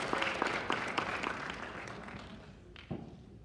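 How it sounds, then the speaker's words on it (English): An audience's round of applause for volunteers at a character-training presentation, a dense patter of many hands that is loud at first and gradually thins and fades, ending in a few scattered claps. "How about a big round of applause for our volunteers?"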